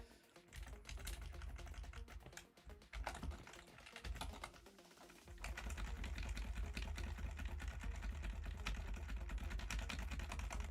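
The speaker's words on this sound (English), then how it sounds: "I don't know if you can hear on the live stream my smacking of the keyboard" Hard, rapid keystrokes hammer a computer keyboard in dense clattering bursts, close and fairly loud, while a low engine-like hum runs beneath and swells during the second half.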